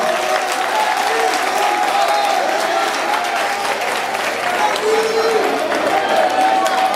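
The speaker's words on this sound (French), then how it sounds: "Veuillez applaudir ces camarades pour montrer un peu comment ils ont été ensemble." Students in Kédougou applaud their classmates: loud, continuous clapping from a sizeable group, with crowd voices mixed in under the steady roar.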